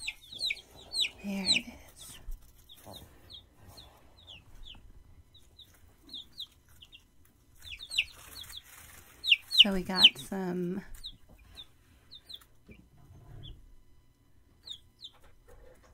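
Chickens clucking and chirping in short bursts, close by, with someone talking over part of the sounds as a recording of newly arrived chicks and ducks plays.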